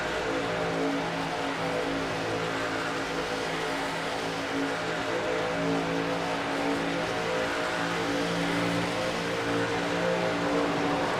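Race truck engines drone steadily in an iRacing replay at Michigan International Speedway. The sound is an unbroken, moderately loud mechanical hum from several trucks, with no talk over it.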